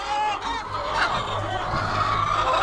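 Dekalb White laying hens cluck and murmur steadily in a coop, a close, continuous flock chatter with overlapping calls and no talking.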